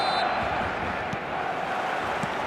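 Stadium crowd in the eFootball video game, a steady broad roar of distant fans that carries under a commentator's voice.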